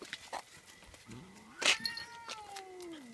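A cat yowls and growls at a young, large dog indoors, a drawn-out rising and falling caterwaul with sharp hissing bursts, loud and close, with no talking.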